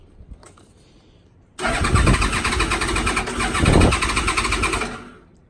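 Motorcycle engine cold starting: faint clicks and fumbling, then the engine suddenly catches and runs loud and rough close by, revving up once before settling and fading.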